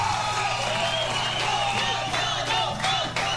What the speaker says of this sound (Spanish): ¿Qué pasa con los aplausos?